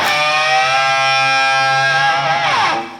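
A distorted electric guitar holds a sustained double-stop bend, both strings bent up a whole step, the pitches sliding upward together near the end before fading out.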